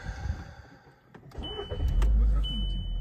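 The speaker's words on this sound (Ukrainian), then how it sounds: "давайте заведемо нашу машинку" A 2005 Volkswagen Golf 5 running on gas and petrol, with 210,000 km on it, cranks and starts: a short starter whir, then a low engine rumble that settles into a steady close idle.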